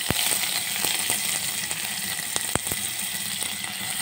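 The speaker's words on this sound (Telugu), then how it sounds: "ఇప్పుడైతే జీలకర్ర, ఆవాలు, అలానే కొద్దిగా కరివేపాకు, ఇప్పుడు ఇందులోనే ముందుగా కట్ చేసి పెట్టుకున్న ఆనియన్స్" Onions sizzle in hot oil with cumin, mustard seeds and curry leaves, making a steady close frying hiss. Sharp crackles and pops break through it at irregular moments, with no talking.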